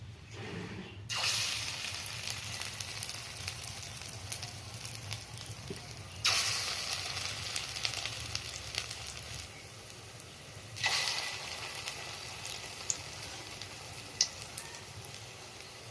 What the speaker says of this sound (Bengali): এখন ভেজে নেবো